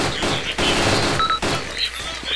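Gunfire in the video game Arma Cold War Rearmed, a continuous busy fusillade of shots that fills the whole stretch at steady loudness, with a brief dip midway.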